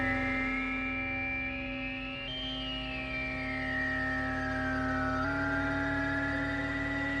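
A Moog Subharmonicon ambient drone holds steady, layered tones while a sequenced filter resonance sweeps upward then slowly glides down and steps, with reverb adding a soft wash; continuous and fairly loud, no voices.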